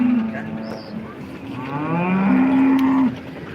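Cows moo loudly and close by at a cattle market in Modnimb, several long drawn-out calls overlapping, with a low murmur of background activity.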